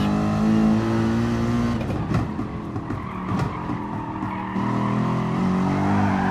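Race car in a racing video game at the Nürburgring GP circuit, engine roaring steadily with a tire squeal as it slides out of a corner, then revving back up, loud and close with no talking.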